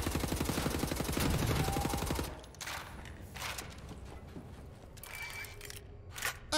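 Automatic gunfire in Wolfenstein: The New Order, a dense, fast burst of rounds for about two seconds, followed by quieter scattered shots and impacts.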